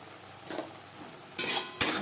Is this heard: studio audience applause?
no